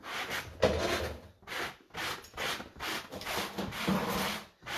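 Sandpaper of 120 grit rubbed over a painted fabric chair, giving soft, close scratchy strokes in an uneven back-and-forth rhythm, alone and fairly quiet.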